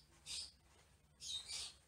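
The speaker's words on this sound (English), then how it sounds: "My birds are just carrying on today." Pet birds chirp indoors in two short, bright bursts of high-pitched calls, faint and close, with a quiet gap between them and no talking.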